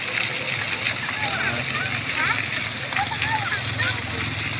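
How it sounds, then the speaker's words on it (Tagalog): Constant splashing and spattering of water from a lighted shower, with voices and chatter mixed in over the steady wash. "Ito guys, ang shower. Shower na may light."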